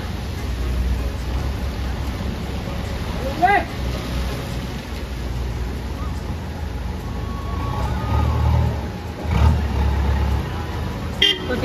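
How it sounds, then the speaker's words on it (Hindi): Heavy monsoon rain at a roadside work site near Kotdwar with a JCB vehicle nearby, a constant loud roar of downpour with low engine rumble, faint passing horn toots and occasional bumps. "अब काफ़ी तेज बारिश हो गई तो काम भी रुक गया है"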